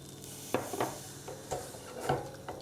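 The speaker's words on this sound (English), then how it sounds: "you beat well until again the milk is absorbed and the flour thickens" A whisk or spoon beats milk and flour into a soufflé cheese sauce in a pan, making a few distinct scraping, clacking strokes at an uneven pace against a faint background hiss.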